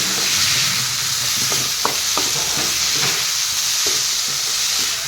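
Carrot pieces fry in hot oil in a pan for a carrot and fish curry, a steady loud sizzle broken by a few sharp scraping stirs of the spoon, with no talking.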